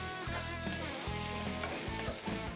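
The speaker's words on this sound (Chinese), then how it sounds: "开大火爆炒。" Garlic, leek and red chili stir-fried hard on high heat in a wok, a dense, steady sizzle running throughout under a tonal, music-like background with rhythmic low pulses.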